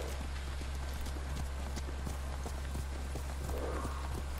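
Horse hooves galloping in the Ghost of Tsushima video game, a steady rapid clip-clop running continuously under a dense, loud game soundscape with a constant low rumble.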